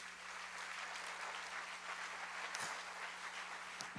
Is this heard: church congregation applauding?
yes